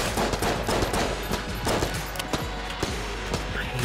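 A turret mounted on a mine cart firing in Enter the Gungeon, rapid bursts of gunfire packed in quick succession over busy game sounds.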